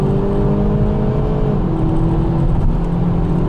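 A 2019 Kia Proceed GT accelerates hard, its engine note droning loud and close with a steady rising harmonic hum, heard alone without voices.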